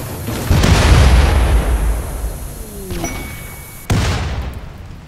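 A deep boom bursts out and rumbles, followed by a high tone and a second sharp blast that decays into a lingering roar.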